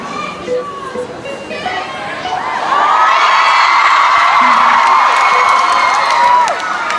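Concert crowd of fans in Auckland cheering and whooping, building from scattered shouts to a loud, sustained roar of high-pitched screams that holds steady for several seconds.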